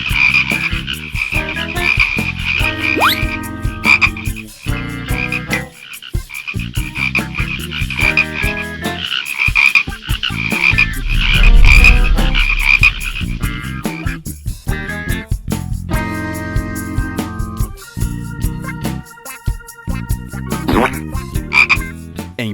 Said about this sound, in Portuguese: milhares e milhares de rãs surgiram, como se fosse um grande exército de criaturas verdes e saltitantes